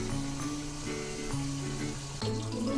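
Broast chicken frying under a lid on a medium flame, a soft, steady sizzle at low volume with light bubbling and a few small ticks.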